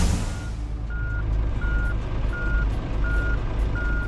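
A truck's reversing alarm in the mobile driving game Truckers of Europe 3, sounding six steady evenly spaced beeps over a low idling engine rumble, loud and close with no talk.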